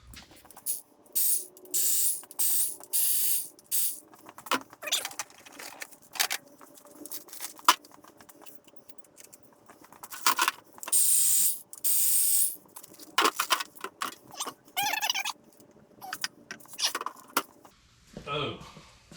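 Ratchet loosening head bolts on a rusty, long-sitting 350 engine during teardown, repeated short rasping ratchet bursts in irregular runs up close, with some clinks and a voice briefly near the end.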